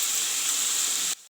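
Cut-up tomatoes frying in a pan for a pumpkin dish, giving a steady bright sizzle that holds evenly and then cuts off abruptly near the end.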